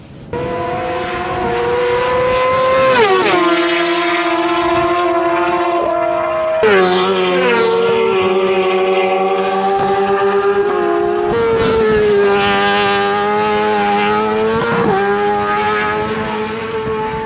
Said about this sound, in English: Speeds these guys are zipping past is incredible.